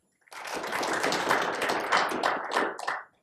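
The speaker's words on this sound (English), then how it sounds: "That's the most applause we've gotten in a while." A short burst of applause from a small audience, dense steady clapping that swells and then tapers off after about three seconds.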